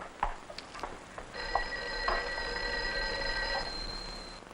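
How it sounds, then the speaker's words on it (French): A telephone rings in a 1959 office scene, a faint, bright repeating bell that starts partway through and rings steadily for a few seconds over a low hiss, with no voices. "Je crois que le téléphone sonne."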